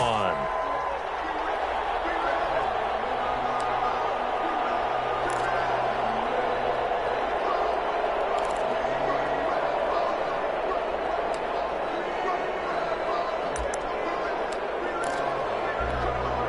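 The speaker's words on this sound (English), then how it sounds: "The crowd here in the Dome making things difficult." Dense roar of a large stadium crowd inside the Dome during a Saints versus Packers football game on a goal-line play, a steady loud wash of cheering and babble holding for the whole stretch with scattered sharper accents.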